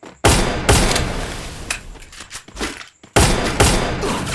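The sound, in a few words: gunfire in a shooter video game, headshot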